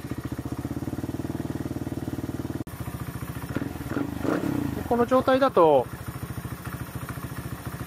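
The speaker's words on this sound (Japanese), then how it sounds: "ちょっとエンジンかけてみましょうか。" A Honda Monkey 125 with custom parts fires up and settles into a steady idle, its pulsing low thrum running throughout while someone talks over it and a few louder revving bursts rise near the end.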